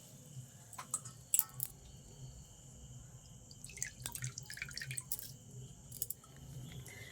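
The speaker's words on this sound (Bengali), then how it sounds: "এবারে আমি ভালো করে নিগড়িয়ে তুলে নেবো আলুগুলো।" Boiled potatoes are squeezed by hand to press out the water, giving soft wet squelches and scattered drips that come close and fairly quiet in irregular bursts.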